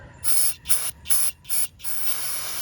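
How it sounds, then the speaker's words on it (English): PB Blaster penetrating oil sprayed from an aerosol can onto a rusted bolt during a 2001-04 Kia Rio belt change: four short close hissing bursts followed by one longer sustained spray, with no voices. "And you spray it down."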